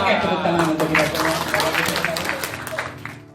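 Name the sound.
audience clapping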